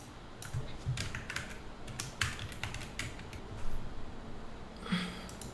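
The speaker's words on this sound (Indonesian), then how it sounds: "kalian di pencarian ketik aja seperti ini" Keystrokes on a computer keyboard typing a search query, soft irregular clicks in short bursts, close and quiet, with no voices.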